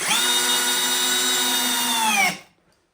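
An Eltos DA-16 BL brushless drill driver on first speed drives a 90 mm screw, a loud, close, steady motor whine that dips slightly in pitch before cutting off sharply.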